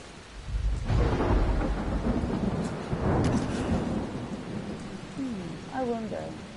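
Thunderstorm in the game Dying Light: heavy rain hisses throughout while deep rolling thunder rumbles build and fade, with a brief higher-pitched creature-like cry near the end.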